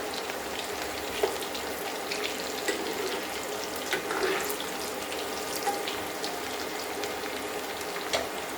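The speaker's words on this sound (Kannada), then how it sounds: "ಇತ್ತ ಉಂಡತೆ ನಮ್ಮ ಲೋ ಫ್ಲೇಮ್ ಹಿಡಿದು ಇದು ಬಟಾಟೆನ ಫ್ರೈ ಮನ್ಪುಗ." Potatoes fry in a pan over a low flame, giving a steady soft sizzle with occasional light clinks and scrapes of stirring.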